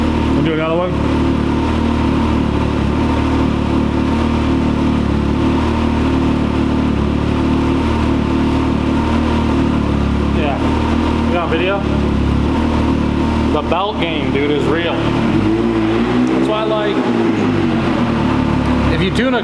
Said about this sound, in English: The engine like sounds different With that belt.